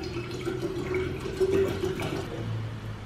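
Sparkling water is poured into homemade orange and carrot juice, giving a short steady liquid trickle and fizz that swells slightly before easing off.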